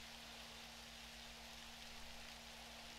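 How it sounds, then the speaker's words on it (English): Rain in the survival video game 7 Days to Die falls as a steady, faint, even hiss with a low constant hum beneath, unbroken and without voices. "it's raining right now"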